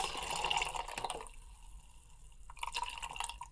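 Cold brew coffee poured into a cup, a faint, soft liquid trickle and drip in a quiet kitchen, with brief gaps as the stream falters.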